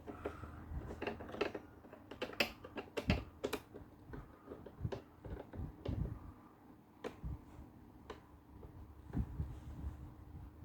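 A small screwdriver turns screws by hand while a Sony CF-580 radio cassette casing is put back together, giving soft irregular clicks and light ticks, close and quiet with no talk.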